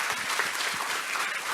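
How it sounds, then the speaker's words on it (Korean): Audience applause at a political party academy event fills the moment, a dense, even wash of clapping from a seated crowd, fairly close and steady throughout. "박수 한번 보내주세요."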